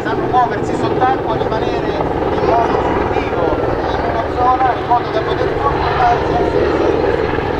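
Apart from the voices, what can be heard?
twin-engine SH-101 military helicopter flying at air show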